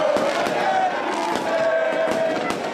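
Fans celebrating a historic handball Coppa Italia win set off fireworks, a rapid run of crackling pops and bangs over a dense, chanting crowd, with a high whistling tone drifting through.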